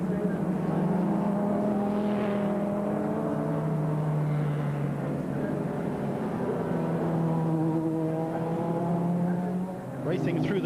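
The number 42 factory BMW race car drives at the 2003 Nürburgring 24 Hours through the Hatzenbach corners, its engine droning steadily with shifting pitch under a commentator's voice.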